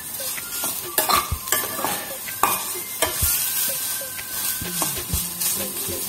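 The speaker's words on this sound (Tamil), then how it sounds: "நம்மளோட முட்டைக்கோஸ் வந்து நல்லா வதங்கிருச்சு" Cabbage sautéing in a pan for a chutney, a steady sizzle under repeated scraping and stirring strokes of a spoon against the metal, close and moderately loud with no talking.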